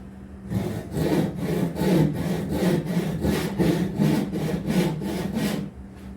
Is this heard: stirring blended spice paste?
no